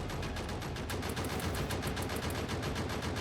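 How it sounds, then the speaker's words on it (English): Turrets firing at a biter nest in Factorio, a dense, continuous rapid-fire stream of machine-gun shots at a steady rhythm, loud and unbroken throughout. "That one even is shooting a nest, so I guess I'll defend the turrets"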